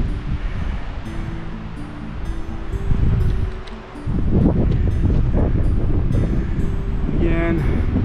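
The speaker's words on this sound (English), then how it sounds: "A little windy up here today," Gusty wind roars and buffets the microphone on a mountain trail near a fire lookout, loud and continuous, with a brief voice heard early on.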